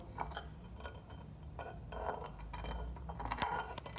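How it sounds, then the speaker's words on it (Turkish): Brine shrimp are stirred in vinegar inside a glass container, giving faint, soft clinks and scraping taps against the glass at irregular intervals, quiet and close. "sirkenin içinde de birazcık karıştırıyorum"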